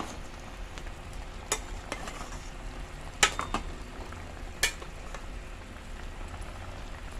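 Chicken kinamatisan simmering in a pot, a steady bubbling and gurgling boil with a few louder pops and clinks against the pot, no talk over it.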